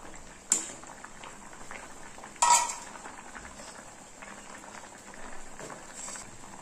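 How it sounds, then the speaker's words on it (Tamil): Drumstick and egg curry at a steady simmer, with soft bubbling throughout, two sharp clinks of a spoon against the pot as ground coconut paste is stirred in, and low gentle stirring noise between them; no voices. "இனி நம்ம அரைச்சி வச்சிருக்கிற தேங்காய் பேஸ்ட்டை சேர்த்துடலாம்."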